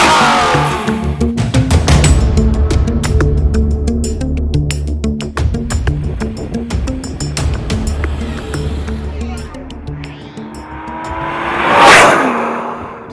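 A Lotus Evora S with a 3.5-litre Toyota-based V6 and six-speed manual gearbox accelerating hard, with a loud, steady engine note climbing through the revs and a few sharp clicks and a whoosh near the end.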